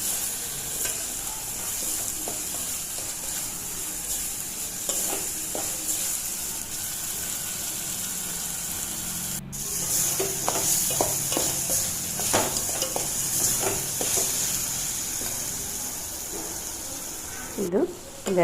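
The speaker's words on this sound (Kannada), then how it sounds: "ಇದು 2 ನಿಮಿಷ ಚೆನ್ನಾಗಿ ಫ್ರೈ ಆಗಬೇಕು. ಎಣ್ಣೆಗೆ ಟೊಮೆಟೊ ಸಾಫ್ಟ್ ಆಗೋ ತನಕ ಬೇಯಿಸ್ಬೇಕು" Tomato fries in oil with spices for potato sagu, a constant bright sizzle with scattered spoon clicks and stirring scrapes, close and moderately loud, louder in the second half.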